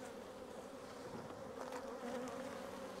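A dense, steady buzz of many honey bees humming together up close at an open hive in October, continuous and droning without pause.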